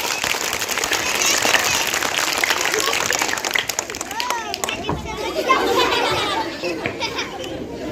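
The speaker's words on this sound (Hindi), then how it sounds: "जोरदार तालियों के साथ इनका स्वागत कीजिए" Applause from a crowd of schoolchildren welcoming the neta character in a Republic Day school drama, continuous clapping mixed with lively children's chatter and shouting throughout.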